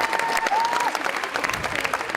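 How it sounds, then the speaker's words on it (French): An audience at a live music venue in Eurythmie applauds a musician on stage, a loud, dense burst of clapping from a crowd with a brief whistle or tone near the start. "Et on l'applaudit, et on l'applaudit."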